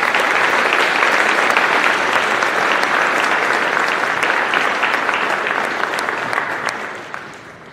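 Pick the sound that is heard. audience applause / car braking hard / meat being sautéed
audience applause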